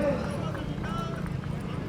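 Hooves of Bajrang, a Nukra horse, clop on the ground at the Talwandi village fair, mostly buried under a loud announcer's voice and crowd murmur throughout.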